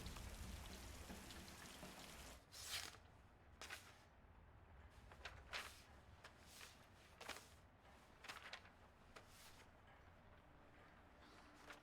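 Rain pattering on surfaces in an animated series' sound design, a soft steady wash broken by scattered sharper drips and taps, fairly quiet and with no talking.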